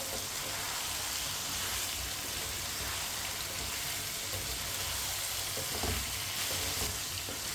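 Potatoes fry in a pan while a spoon stirs them, making a steady loud sizzle with faint scraping throughout and no talk.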